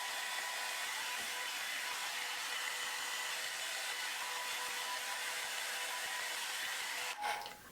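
A hair dryer blows steadily on hair during an at-home salon-style blow-out, a loud, even, close-up rushing hiss. A brief bump and cutoff come right at the end.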